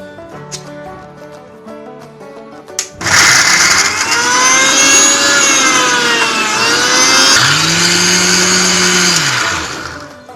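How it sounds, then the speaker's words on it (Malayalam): An electric kitchen mixer grinds ginger, apricot, salt and chili into a Kerala-style chutney, starting abruptly after quiet and running as a loud, steady whirring grind with shifting pitch before winding down near the end. "ഇഞ്ചി, ആപ്രിക്കോട്ട്, ഉപ്പ്, മുളക്, ഇത്രയും ഐറ്റം ഇട്ട് അടിച്ചെടുക്കാം."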